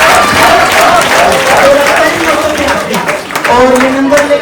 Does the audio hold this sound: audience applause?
yes